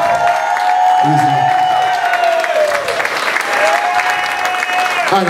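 A crowd at a live rap show applauds and cheers loudly, steady clapping with whoops and a few shouts over it, close and full.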